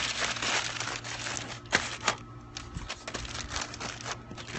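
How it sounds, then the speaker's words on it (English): Aluminium foil crinkles and rustles continuously at close range as it is folded and wrapped over smoked beef ribs, with a few sharper crackles standing out partway through. "let's go ahead and throw this other piece of foil on."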